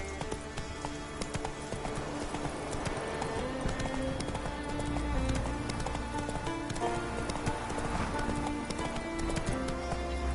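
Roach the horse from The Witcher 3 clip-clops along with a steady rhythm of hooves, close and continuous, over a light rain-like patter and game ambience, with no talking.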